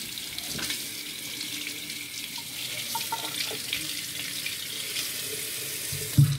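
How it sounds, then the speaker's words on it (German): Clear tap water runs steadily into a sink while hands are washed under it, a continuous soft hiss and splash at moderate level with a brief thump near the end. No one speaks. "Dann probieren wir das Ganze einfach mal mit klarem Wasser."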